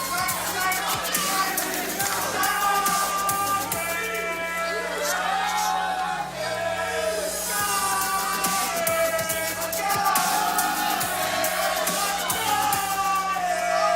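A large crowd at a USFFC 22 mixed martial arts fight event chants and roars steadily throughout, a thick sustained wall of voices with a commentator talking over it.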